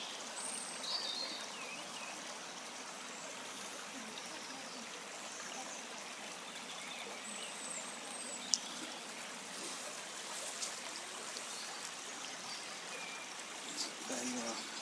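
Gentle trickle of stream water running over steps on a quiet country walk, a steady soft wash of flow with faint birdsong above it and no talk over it.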